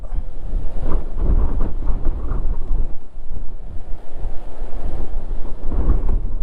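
Strong, steady wind roars and buffets the microphone on the Pacific Viewdeck in Dingalan, with deep rumbling gusts and no talking.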